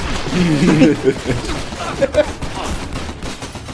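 Gunfire in the video game Stranglehold, a busy mix of shots and bursts under ongoing talk, with a few sharper reports standing out near the start and middle.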